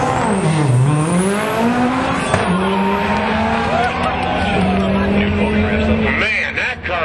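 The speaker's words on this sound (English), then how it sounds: "Man, that car's a rocket." A race car's engine roars loudly throughout a drag-style import race run, its pitch climbing through gear changes with tire noise mixed in, all close and continuous, with voices faint beneath.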